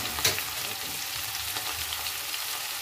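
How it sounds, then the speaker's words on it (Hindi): Garlic paste frying with cumin in a hot pan for an eggplant bharta, a steady close crackling sizzle with a brief louder spit near the start. "ये हमने लहसुन का पेस्ट बना रखा है तो ये डाल देंगे उनको गोल्डन ब्राउन होने तक पकाएंगे"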